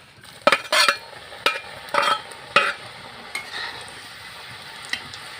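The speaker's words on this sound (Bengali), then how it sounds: "বাকি নিমকিগুলো একইভাবে ভেজে নিচ্ছি" Crisp nimki dough snacks deep-frying in oil, with a low bubbling sizzle under several sharp scrapes and clinks of a metal utensil stirring in the pan, loud at first and then tapering to occasional taps.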